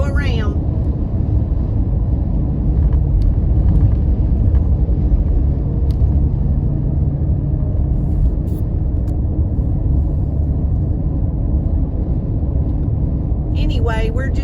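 A car driving along rural back roads in Rusk County, a steady low rumble of engine and tyre noise throughout with faint brief sounds near the start and end.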